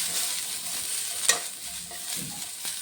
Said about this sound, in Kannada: ಇವಾಗ ಚೆನ್ನಾಗಿ ಫ್ರೈ ಆಗ್ತಾಯಿದೆ.